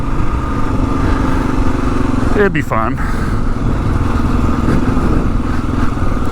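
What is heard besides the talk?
2022 Kawasaki KLR 650 dual sport motorcycle engine riding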